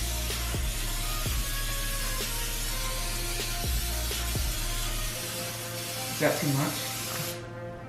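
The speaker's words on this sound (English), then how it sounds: "you're gonna start off by spraying the cooking spray onto the pan" Cooking spray hisses onto a baking pan in a home kitchen, a steady aerosol rush with short bursts, while someone talks nearby over the spraying.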